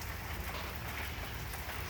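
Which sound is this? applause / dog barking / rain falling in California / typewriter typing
rain falling in California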